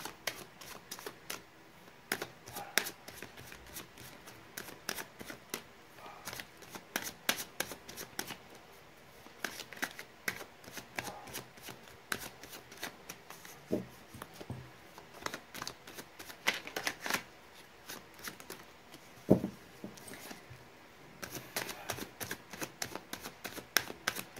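A deck of tarot cards is shuffled again and again, with quick, close riffling and flicking bursts that come in irregular rhythm and fill the whole stretch, with no talking.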